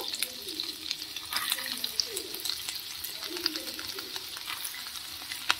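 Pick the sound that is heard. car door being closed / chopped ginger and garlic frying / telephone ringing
chopped ginger and garlic frying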